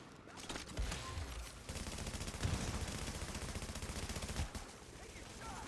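Sustained automatic gunfire in the video game The Division, with a continuous rattle of rapid shots and a few heavier booming hits, loud and close for several seconds.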